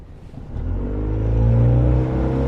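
Outboard engine of a Highfield 380 Classic GT boat accelerating hard from a standstill on open water, a low steady drone rising smoothly in pitch and loudness over a couple of seconds, close and alone.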